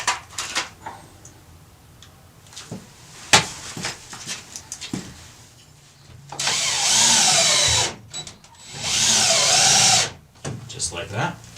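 A power drill drives a couple of screws through a hinge while mounting a homemade Jeep JK door storage bracket. It makes two loud, sustained whirring bursts of about two seconds each. Sparse knocks and handling noises come before and after the bursts.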